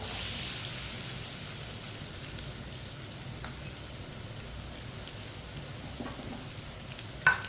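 Cut taro root (arvi) fries in a pan with a quiet, steady sizzle and crackle, ending in a brief clatter.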